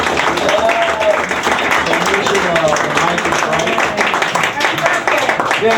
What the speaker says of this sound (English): Let's fill this house with applause.